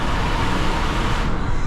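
A 2006 Mercedes CL600 with a 517 hp engine at high speed on the autobahn, giving a steady, loud broadband roar of engine, exhaust and road rush that holds constant throughout without any pauses.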